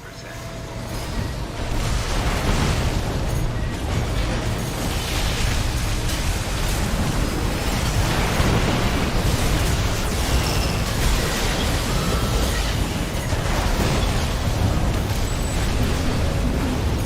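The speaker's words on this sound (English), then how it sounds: "Oh, I got spammed by missiles." A sustained barrage of missile explosions in Armored Core 6, a loud, dense roar of overlapping blasts and debris that starts abruptly after a brief quieter opening and continues without letup.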